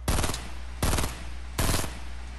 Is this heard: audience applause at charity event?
no